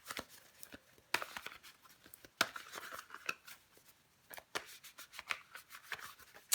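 Tarot cards being shuffled, flipped and laid out on a table, a close, crisp run of papery slaps and slides with sharp snaps every second or so, no voices.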